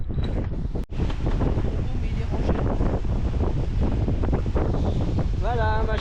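Strong wind of about 30 knots roars across the microphone on a sailboat, a continuous buffeting rush with water noise beneath and a brief voice near the end.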